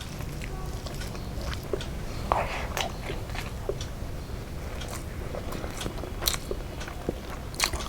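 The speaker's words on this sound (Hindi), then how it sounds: "तो खाना स्टार्ट करते हैं, लेट्स स्टार्ट खाना।" Fried fish and pakoda eaten with rice, giving close, repeated crunchy bites and moist chewing at a steady pace, with no talk over it.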